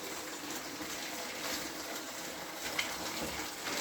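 Water poured over freshly bought fish while they are washed, a steady broadband gush running evenly through the whole stretch with no talk over it.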